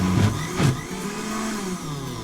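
A blender whirs steadily while mixing a smoky lentil paté, a close, loud motor drone with a couple of thumps near the start.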